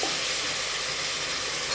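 Chicken sizzling in a hot pan with ginger-garlic paste for a green chicken curry, a dense, steady hiss close up with no talking.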